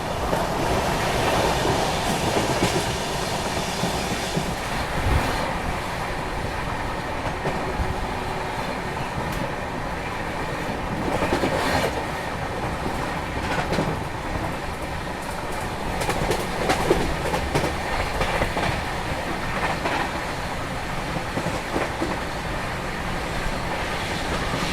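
Pune–Kolkata Humsafar Express speeding along at close to 100 km/h, a steady loud roar of wheels and rushing air with a rhythmic clickety-clack over rail joints, continuous for the whole stretch with no voices.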